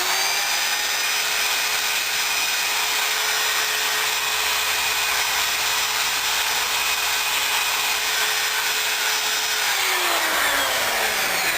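An electric drill spins a brush against a car muffler during decarbonising, a loud continuous high whine with a sustained pitched tone that holds steady, then bends downward near the end.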